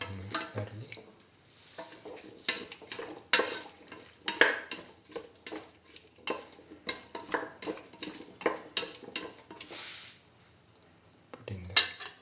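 Stirring salt into a potato and chayote stew with coconut milk: a utensil scrapes and clinks against the pot in uneven bursts, with soft bubbling between strokes and brief talk at the start and end.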